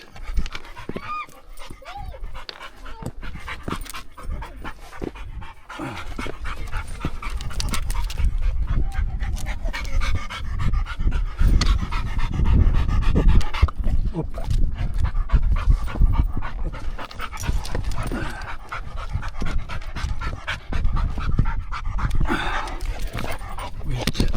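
Dog panting hard and fast while scrambling up a rocky fell path to Lingmoor Fell in the Lake District, close to the microphone, with occasional whimpers and rustling steps, a continuous breathy rhythm throughout.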